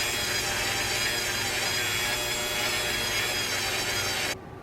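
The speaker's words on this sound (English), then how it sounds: "sand down the excess with a file or Dremel tool" A plastic servo horn for an Axial SCX24 is ground down with a Dremel, a loud, continuous high whine with rasping texture that cuts off abruptly at the end.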